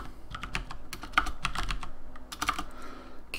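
Rapid typing on a computer keyboard, close and clear, with irregular clusters of key clicks and a few sharper strikes running steadily throughout, no voices.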